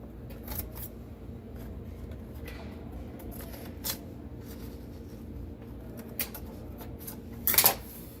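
Paper is cut and folded to line a soap mold. Quiet, close rustling and crinkling is broken by a few sharp snips, and a louder crumpling burst comes near the end.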